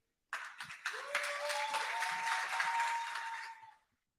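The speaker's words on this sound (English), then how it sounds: "So I heard a round of applause a little bit earlier" A gala audience breaks into a round of applause: dense, steady clapping that starts abruptly, holds for about three seconds under a faint sustained tone, then fades quickly.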